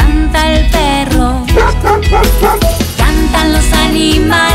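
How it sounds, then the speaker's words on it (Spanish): Dog barking in a Spanish-language children's farm song: bright yips and bow-wows over the bouncy music, repeated rhythmically and loud in the mix. "y canta el perro"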